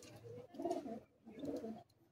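A pigeon gives two soft cooing calls in a row, close but quiet, each a low throaty burst separated by a brief pause.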